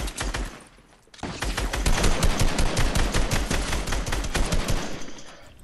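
Rapid automatic gunfire in the Fortnite video game during a squad match, a dense sustained burst of sharp shots after a brief quieter moment, loud and close with no talking.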